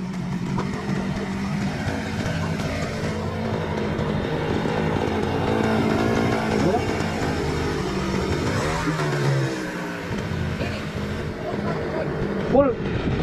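A small boat's outboard motor drones loud and steady on open water, its engine note wavering slightly, while people shout over it and a brief pitch rise near the end.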